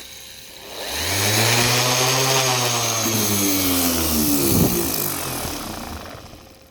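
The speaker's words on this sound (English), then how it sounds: "It's a Dewalt D26453XE variable speed random orbital sander" A Dewalt D26453XE variable-speed random orbital sander with 50mm discs, sanding a car bonnet, whirs up to speed, its motor drone rising in pitch, holding steady for a few seconds, then easing off.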